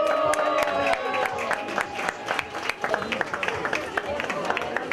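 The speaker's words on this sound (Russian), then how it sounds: "бурные аплодисменты от команды ресторанов" Restaurant staff give loud, sustained applause at the opening of a McDonald's restaurant in Brest, with dense clapping and crowd noise and a voice talking over it.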